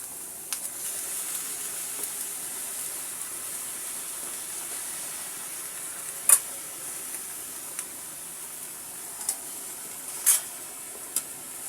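Vegetables (beans, cauliflower, potato and tomato) fry in a pan in oil left over from frying koi fish, giving a faint, steady high hiss with a few sharp pops and crackles scattered throughout.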